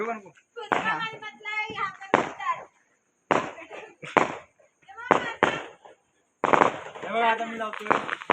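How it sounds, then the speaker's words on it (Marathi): Diwali firecrackers bursting outdoors at a home celebration, several sharp loud bangs spaced irregularly through the stretch, mixed with people talking and calling out between the blasts. "आपले नाना लावतात बॉम्ब"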